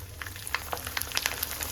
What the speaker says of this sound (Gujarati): કુરકુરે તળવા ઉમેરી દેશું.